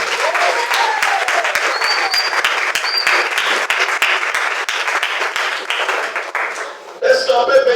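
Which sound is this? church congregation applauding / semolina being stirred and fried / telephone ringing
church congregation applauding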